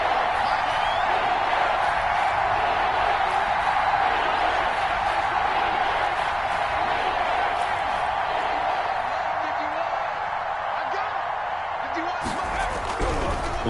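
Stadium crowd at a youth football game between the Lions and Falcons, a broad steady roar of cheering ahead of a big third down, heard throughout beneath continuous commentary.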